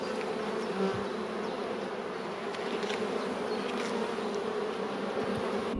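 Honey bees hum around an open hive during a colony inspection, a dense, continuous buzz close by and even in loudness throughout, with no voices.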